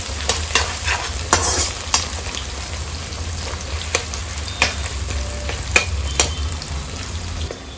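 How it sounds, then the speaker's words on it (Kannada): Two medium-sized chopped onions frying in a pan for pepper chicken: a steady close sizzle with the scrape and clack of stirring at irregular intervals. "ಎರಡು ಮೀಡಿಯಂ ಸೈಜ್ ಈರುಳ್ಳಿನ ಕಟ್ ಮಾಡಿ ಇಟ್ಕೊಂಡಿದ್ದೀನಿ. ಅದನ್ನು ಸೇರಿಸ್ಕೊಳ್ಳೋಣ. ಚೆಂದ ಫ್ರೈ ಮಾಡ್ಕೊಳ್ಳೋಣ."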